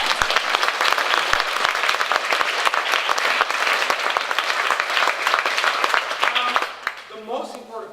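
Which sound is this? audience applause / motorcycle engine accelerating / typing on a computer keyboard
audience applause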